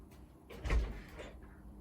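A door opens with a single muffled thud and a brief scrape in a garage where a 1973 Honda SS50 moped is being worked on, over a low background rumble.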